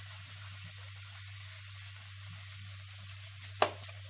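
Masala roasting in a kadhai for kadhai paneer gives a steady, soft sizzle throughout, with a single sharp clink near the end.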